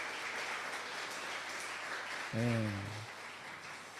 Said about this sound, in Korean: 우리 박수로 아이들을 환영하겠습니다.